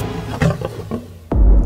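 A big wild cat gives a single powerful roar, loud and close, rising out of ambient noise and followed by a deep rumbling tail.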